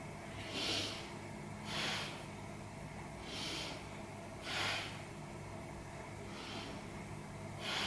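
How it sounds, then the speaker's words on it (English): Slow, deep breathing during a core-strengthening yoga exercise, with several soft airy inhales and exhales spaced evenly over a steady low hum, close and quiet. "let's take 3 big breaths here"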